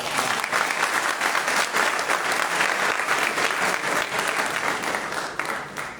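Sustained, dense audience applause fills a poetry gathering, steady and loud throughout before easing slightly at the very end.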